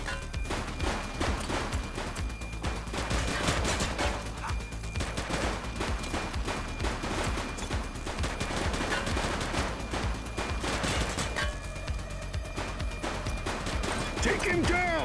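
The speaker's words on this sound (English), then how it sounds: "He's shooting!" Shootout in The Precinct video game, with rapid bursts of gunfire and heavy shots firing steadily over a constant dense background, while voices call out over the shooting.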